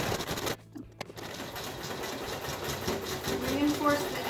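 A sewing machine stitches a cloth Illithid face mask with a wire nose strip, whirring steadily at close range with a short pause early on.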